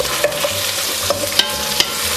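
Frozen meatballs stirred around in a pot of Italian tomato sauce: soft scraping and sloshing with a few light clicks against the pot over a gentle simmering sizzle, no voices.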